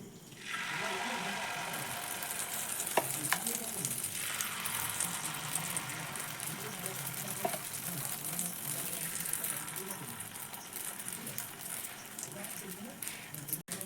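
Potato and onion batter fries in a pan over a medium-low gas flame, giving a steady close sizzle throughout with a voice talking over it.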